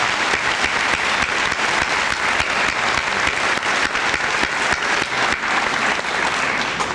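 A crowd at a high school senior assembly gives a loud, continuous round of applause, many hands clapping steadily throughout without talk on top.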